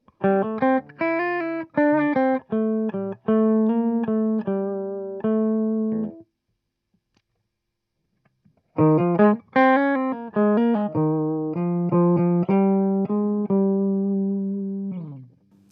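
Clean electric guitar playing single notes through a Digitech Drop pitch-shifting pedal that adds a harmony line, two phrases separated by a short silence.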